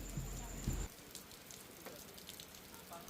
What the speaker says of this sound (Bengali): তখনও বাইরে ঝুম বৃষ্টি।